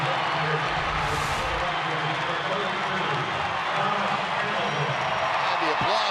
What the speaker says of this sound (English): And the applause